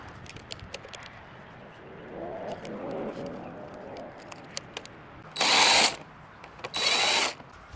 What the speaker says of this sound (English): get an impact socket set on the end of my drill and get all those off